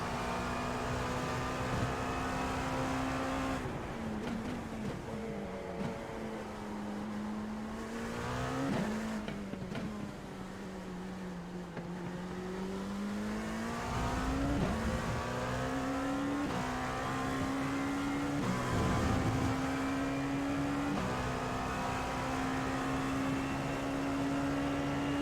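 An LMP2 Dallara P217 prototype race car in the iRacing sim drones steadily at high revs for the whole stretch, its engine pitch dipping on downshifts and climbing again through repeated gear changes, with no talk.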